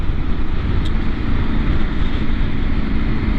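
A KTM 790 R Adventure motorcycle is ridden at steady speed, its engine a constant low drone mixed with heavy wind rush, with no speech.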